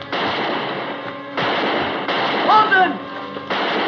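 Gunshots in a western shootout ring out as a rapid burst of sharp cracks, loud and close, with someone shouting a name over the firing.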